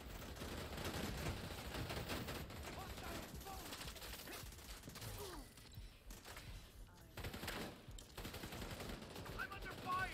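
Sustained automatic gunfire in a PS5 shooter, dense rattling bursts that briefly pause and resume, fairly faint and mixed under game noise and a speaking voice.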